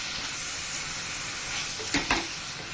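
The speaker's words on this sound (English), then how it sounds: "And now I'll add this 3 medium sized onion." Three medium onions frying in a pan over a low flame, a steady broadband sizzle and hiss throughout with a couple of brief louder crackling bursts near the end.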